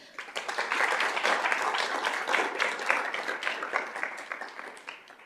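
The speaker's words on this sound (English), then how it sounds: "they deserve that big round of applause" A room of attendees at a school governing board meeting applauds steadily, dense overlapping claps sustained for several seconds at moderate distance with no speech over them.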